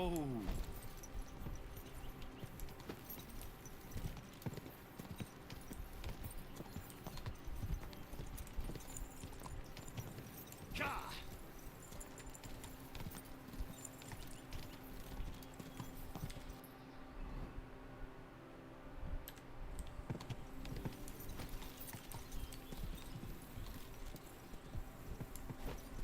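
Horse hooves clip-clopping steadily in Kingdom Come: Deliverance II, a continuous rhythmic trot set within dense game music and ambience, with a brief whinny-like cry and someone talking at times over the bed.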